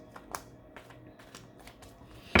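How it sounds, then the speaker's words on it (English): Tarot cards are shuffled in a quiet room, faint soft riffling taps recurring at irregular intervals, ending in a sudden louder knock. "So let's shuffle the cards and see what else we have here"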